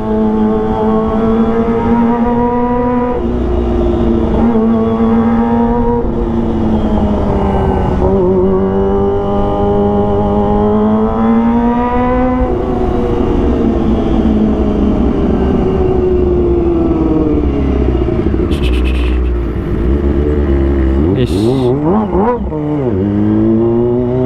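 A Kawasaki ZX25R motorcycle engine revs hard and continuously while riding through traffic, its high-pitched four-cylinder wail rising and falling with gear changes and throttle blips, loud and close throughout.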